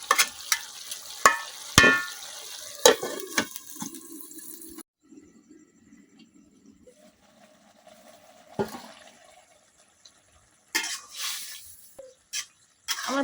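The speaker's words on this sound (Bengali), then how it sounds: "তো আমি আর কিছুক্ষণ কষাই নেব।" Shredded cabbage is stir-fried in a pan, cooking down in its own released water: soft sizzling and scraping stir strokes come in bursts, with quieter stretches of gentle bubbling between them.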